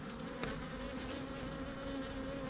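Dense, steady buzzing of many bees swarming around a large, aggressive beehive, a continuous drone with a few closer passes rising briefly above the hum.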